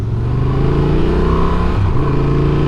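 2024 Honda Transalp 750 adventure motorcycle, engine note loud and close with a steady throbbing drone and a brief pitch shift near the end, no talking.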